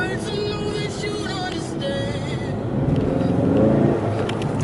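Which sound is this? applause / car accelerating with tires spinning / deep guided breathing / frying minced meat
car accelerating with tires spinning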